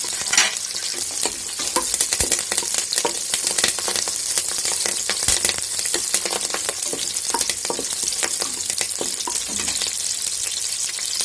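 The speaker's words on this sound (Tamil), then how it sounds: "நல்லா வதக்கிக்கலாம்." Food sizzles and crackles in hot oil, loud and steady, with intermittent scraping clicks of a spoon stirring the pan.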